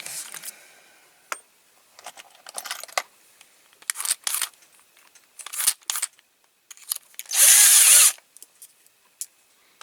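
A power drill drills out a rivet on a Corgi Toys Massey Ferguson 165 model tractor, whirring in several short bursts separated by pauses and small metallic clicks, ending with one longer, louder run.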